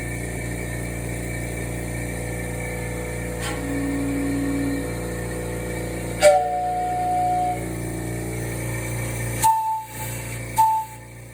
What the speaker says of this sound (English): Are these ship whistles, huh? Yeah, those are whistles.